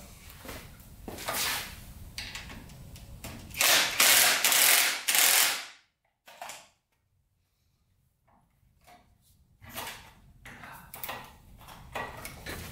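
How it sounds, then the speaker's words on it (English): Kick start lever on a two-stroke Yamaha motorcycle ratcheting and slipping, several rough mechanical bursts with a loud grinding stretch, then a pause and more scattered clicks and clatter. "The kick lever keeps on stripping out though."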